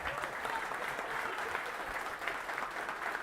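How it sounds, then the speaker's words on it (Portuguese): A crowd at an outdoor political speech gives sustained applause, a steady, fairly distant wash of many clapping hands with faint voices mixed in. "vamos pedir uma salva de palmas pro Bertolucci"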